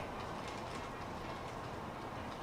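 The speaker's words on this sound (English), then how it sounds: "are your model trains HO scale? No, they are O scale." O scale model trains running on a layout, a steady rolling rumble with faint rail clatter continuing evenly throughout, with no talking.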